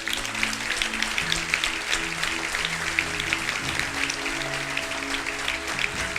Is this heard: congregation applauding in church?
yes